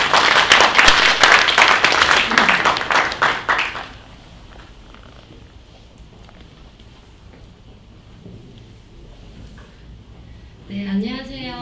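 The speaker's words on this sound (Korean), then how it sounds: "박수 한번 쳐주시죠." An audience applauds a presenter at an event, loud clapping for a few seconds that then stops, leaving quiet room tone before a person starts speaking.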